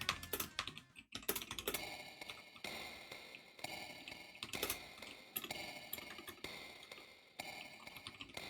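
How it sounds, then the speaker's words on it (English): Fingers type steadily on a computer keyboard, with rapid clicky keystrokes in uneven bursts and brief pauses, close-up and continuous for several seconds without talk. "I'm typing. I'm tip-tap typing."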